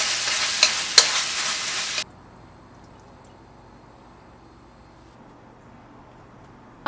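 Okra and masala frying in a pan, a loud, close sizzle with a couple of stirring scrapes that stops abruptly after two seconds and leaves near silence.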